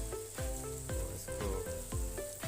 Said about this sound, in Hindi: 5 मिनट तक इसको और फ्राई करेंगे।